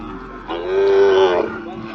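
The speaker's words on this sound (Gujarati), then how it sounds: "તમે ગાયો જોવો ખાલી કેટલી છે" A single loud, close moo from a cow at a large cattle shelter of over 8,000 cows, drawn out for about a second, with faint background noise before and after.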